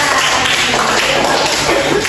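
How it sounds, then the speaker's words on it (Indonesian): A classroom of students applauding a classmate, loud, close clapping that runs continuously and evenly throughout the short stretch. "Beri tepuk tangan untuk Anissa Dinda"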